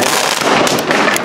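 A Rambo 31K flash-banger firecracker by Pirotecnica San Severo, an Italian firework set off in Valencia in 2017, goes off as a loud, close burst with sharp cracking pops over about a second.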